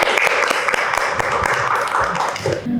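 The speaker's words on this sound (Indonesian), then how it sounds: "tepuk tangan dulu untuk Adit ya teman-teman ya" Applause from a class of students for a classmate named Adit, a steady patter of many hands clapping at once, dense and fairly loud, with no break across the whole stretch.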